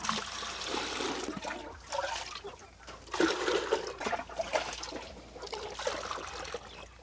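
Water with medicine splashes and pours in uneven bursts into a 12-litre chicken drinker, a moderately loud rushing sound that starts and stops several times with no talking.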